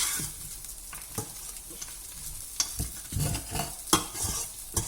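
Flattened rice upma is stirred in a pan with a spoon scraping and tapping against the metal, irregular close knocks over a soft, steady sizzle.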